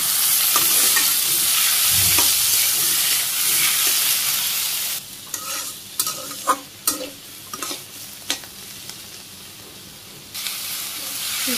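Leafy greens hit hot oil with cumin, onion and green chili, sizzling loudly at first, then settle into a softer hiss as a utensil stirs them with repeated close scraping clacks.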